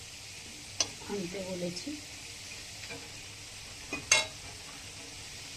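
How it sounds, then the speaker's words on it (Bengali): Potatoes fry in a pan, giving a faint, steady sizzle with a couple of sharp utensil clinks. A voice speaks briefly over it. "এই আলুটা আর একটু ভাজা হয়ে যায়"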